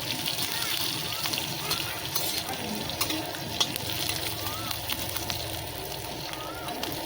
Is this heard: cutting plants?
no